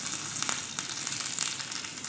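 Mustard seeds dropped into hot mustard oil for tempering, crackling and sizzling steadily with scattered sharp pops, close and moderately loud, no voices.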